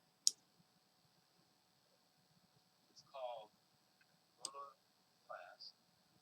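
A computer mouse gives a sharp isolated click, followed later by a few brief faint clicks and soft taps, near and quiet in an otherwise still room.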